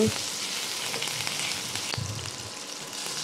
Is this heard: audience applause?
no